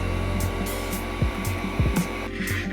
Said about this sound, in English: let's just try and unwind this a little bit so that we can get the heat gun on here without melting the wires